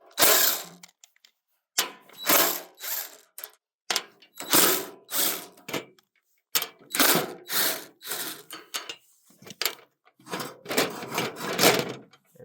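Repeated bursts of rapid ratchet clicking as mounting plate screws are loosened by hand, each run lasting about a second with short quiet gaps between, close and crisp.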